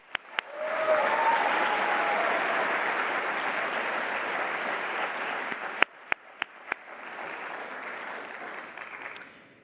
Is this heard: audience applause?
yes